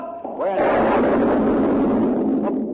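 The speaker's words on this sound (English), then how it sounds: "The Monitor has opened fire. We have opened fire. The blast is deafening." A loud, sustained roar of heavy cannon fire from the Monitor's turret during the 1862 battle with the Merrimac, a broad rumbling blast that swells quickly and holds for a couple of seconds.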